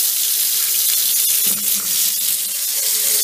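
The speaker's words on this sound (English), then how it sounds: "let's take it to the sink, and I'm gonna rinse it in some hot water" Hot water runs from a sink tap for rinsing blueberry-dyed fabric, giving a steady hissing splash that continues throughout with small shifts in flow and faint clinks near the middle.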